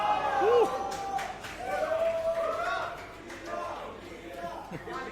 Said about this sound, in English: The crowd is amazing.